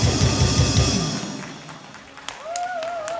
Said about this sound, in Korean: 다시 한번 큰 박수를 보내시기 바랍니다